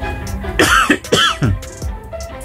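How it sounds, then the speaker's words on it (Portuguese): A man coughs several times in quick succession, harsh throaty bursts close to the microphone with a brief throat-clearing quality, followed by a short trailing sound. "Ainda tô com tosse ainda"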